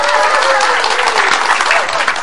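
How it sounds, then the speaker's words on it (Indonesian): A studio audience claps loudly on a talk show, a close, dense burst of many hands applauding that stays steady and full throughout, with a faint voice underneath. "Tepuk tangan dong."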